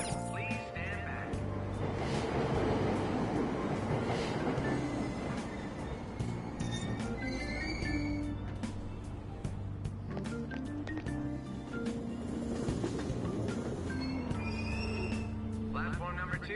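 A subway train at Aoyama Ichome station in Persona 5 Royal, with steady rumble and station ambience running throughout, overlaid by a platform announcement voice and scattered bright chimes and clicks.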